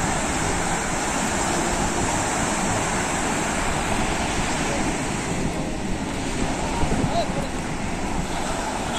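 Big ocean waves break at Kovalam beach in Kerala in a continuous, loud, close surf roar with wind buffeting the microphone and a voice faintly under it.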